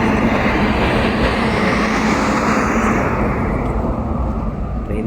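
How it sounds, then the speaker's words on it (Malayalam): An Indian Railways train near Tripunithura approaches slowly in the early morning, a loud, continuous rumbling roar of wheels and engine close by, holding steady and easing slightly toward the end, with no voices. "ട്രെയിൻ പതുക്കെ വരുന്നത്."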